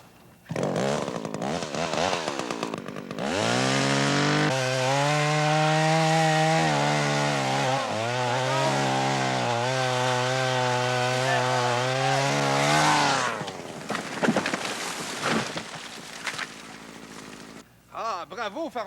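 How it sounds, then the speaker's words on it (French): A chainsaw cuts into a dead tree, its small motor droning loudly and steadily for about ten seconds with rising and falling revs, then cutting off; voices talk before and after. "ça en fait du bruit, une scie mécanique, hein?"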